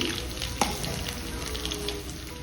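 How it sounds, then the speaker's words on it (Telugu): Tempering of chana dal, urad dal, mustard seeds and cumin frying in hot oil gives a steady close sizzle and crackle, with one sharper pop near the start and no talking. "వేగిపోయిందండి తాలింపు."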